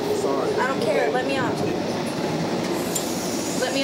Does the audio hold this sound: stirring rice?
no